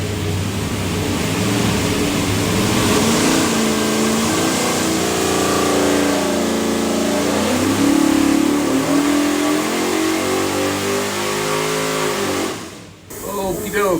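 572 Hemi V8 with a custom-grind solid roller cam roars on an engine dyno, a loud sustained pull with pitch sweeping steadily upward before cutting off sharply near the end.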